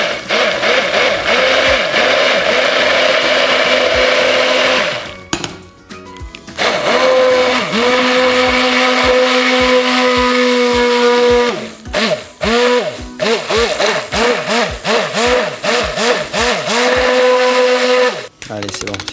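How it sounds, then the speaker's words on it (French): A small kitchen blender whirs loudly while mixing vanilla cream into sweet potato soup, running in long bursts with brief pauses as it is stopped and restarted. "On a notre petit mixeur, on met à l'intérieur et on va verser notre crème au fur et à mesure."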